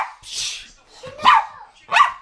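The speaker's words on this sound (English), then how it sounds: "The doggies are playing." Dogs, including a boxer, play together, giving short yips and whiny barks in quick close bursts with scuffling in between and no voices over them.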